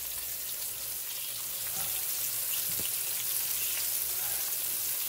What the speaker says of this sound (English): it doesn't take long for these to fry because, like I said earlier, they are very thin